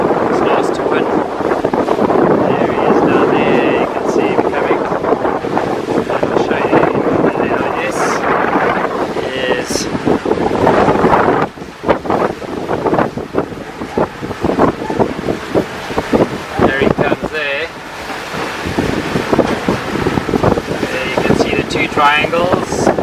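A sailing yacht cruises at 7 to 8 knots through the Grenadines, with loud, constant wind buffeting and water rushing along the hull, and a voice talking over it.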